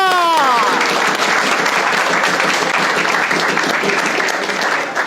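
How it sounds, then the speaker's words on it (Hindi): Loud, sustained audience applause at an online earning talk event, dense clapping throughout with a brief tonal voice-like sound at the start. "तो पहले तो पाकिस्तान के लिए तालियां।"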